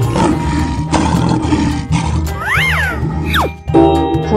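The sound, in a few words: lion roaring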